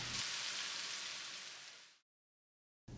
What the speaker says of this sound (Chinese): 再淋上半杯热油